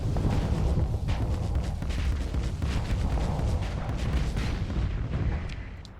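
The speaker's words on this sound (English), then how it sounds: "And the siege cannon." Siege cannon fire in the space game Starsector, a dense, continuous rumble of heavy booming blasts rolling together without gaps, fading slightly at the end.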